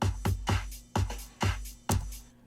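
Bounced-down recorded drum track in Ableton, with punchy kick and snare hits and ringing cymbals in a steady groove, loud and alone without any voices.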